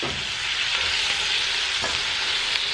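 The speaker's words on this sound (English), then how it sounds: "I wanna go ahead and immediately add my shrimp, and I'm gonna cook them about 2 minutes on each side." Shrimp frying in a pan with lemon and oregano produce a steady, loud, close sizzle with a faint crackle throughout, and no voices.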